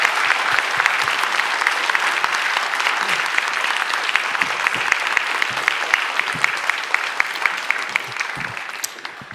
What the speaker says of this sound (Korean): 박수로 여러분 맞이하겠습니다.